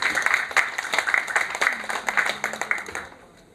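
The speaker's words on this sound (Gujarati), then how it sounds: "તો એક તાળી આપ પોતાના માટે." An audience at a Gujarat Chamber of Commerce and Industry health awareness session on addiction claps together in a dense burst of applause that stays lively, then thins and fades out at the end.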